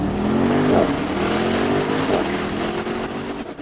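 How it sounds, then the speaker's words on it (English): A Mercedes-AMG SL63 roadster with its turbocharged engine pulls hard with the top down, a loud, close exhaust drone rising steadily in pitch through a gear change and continuing to climb. "we left the top down so we could hear that exhaust"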